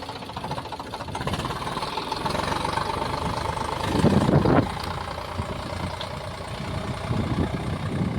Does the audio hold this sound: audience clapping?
no